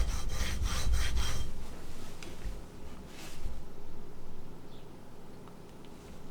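Reed knife blade drawn along a sharpening stone with a wedge angle guide, a few quick rhythmic rasping strokes at first, then slower, quieter scraping passes, close and without talk.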